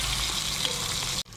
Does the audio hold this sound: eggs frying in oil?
yes